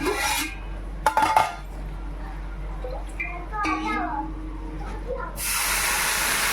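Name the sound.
water added to roasted semolina, sizzling in pan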